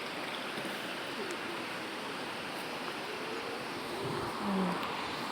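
Natural stream water at Santo Niño flows and burbles continuously, a steady close rush of moving water with a slight swell near the end.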